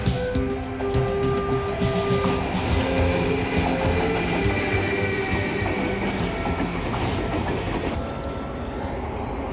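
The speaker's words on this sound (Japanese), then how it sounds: "こちらを通過する貨物列車を見ながらしばらく待ちましょう" A JR Freight train rolls past on the Osaka Freight Terminal line, a steady loud rumble of wheels and clattering cars with faint squealing tones, continuous throughout.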